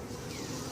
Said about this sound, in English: these are pretty hardy bees